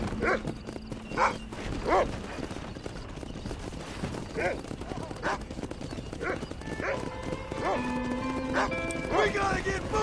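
Horses clip-clop at a steady trot in the video game Red Dead Redemption, with dogs barking and game music in the background while characters talk over the hooves.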